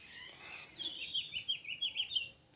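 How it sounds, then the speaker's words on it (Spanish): Birds sing in a rapid run of high, trilling chirps along a village street beside irrigated tomato and chili fields in Ixcamilpa, Mexico, moderately close over faint background noise. "Oigan qué bonito cantan los pájaros, las aves."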